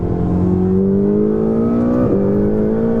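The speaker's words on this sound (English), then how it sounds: "where they try and dumb down the interior exhaust note, Ferrari have upped it. It's really loud in here." A loud, droning Ferrari turbo engine note fills the cabin, steady and rising slightly in pitch, with a brief dip near the end like a gear change.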